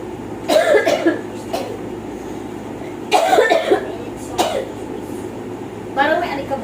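A person with a dusty throat coughs in several rough bursts, three main clusters spaced a couple of seconds apart, close and loud over a low steady hum.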